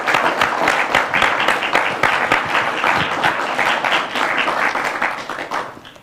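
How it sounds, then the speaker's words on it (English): Sustained audience applause for an author at a reader meet-the-author event, dense steady clapping across the whole stretch, fading slightly at the end. "Could I one more round of applause for our author"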